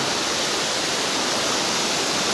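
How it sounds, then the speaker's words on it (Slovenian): Tall waterfall, about 16 to 17 metres high, in Pekel gorge, a loud, steady broadband roar of falling water heard close up with no break and no voices. "pridemo pa že do drugega slapu, ki je pa že tak zaresen slap"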